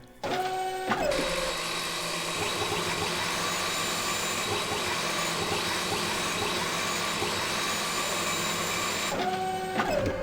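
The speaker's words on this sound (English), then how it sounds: "This is basically a 3D printer." A 3D-printer-like machine in a Resident Evil video game runs with a loud, steady mechanical whir and hum, starting and stopping with short clanks at either end, alone with no talk.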